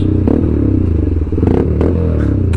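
An Apache RTR motorcycle fitted with a full system exhaust idles and blips close by, a deep, throbbing low rumble with rattly crackles and two short rev surges, loud and continuous.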